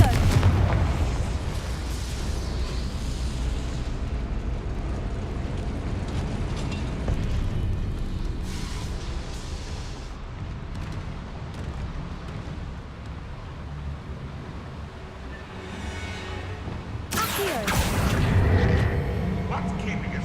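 The Confringo fire spell explodes in the Hogwarts Legacy video game, with deep rumbling booms and crackling blasts over a continuous noisy roar, fairly loud, and a sharper burst near the end while a voice talks over the game.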